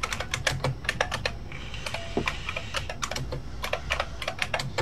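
A mechanical typewriter clacks in quick irregular bursts of sharp key strikes, close and crisp, with brief pauses between runs.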